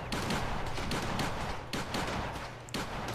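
Gunshots in the video game Fallout 4, a rapid burst of loud cracking shots in quick succession, close and punchy over continuous game noise.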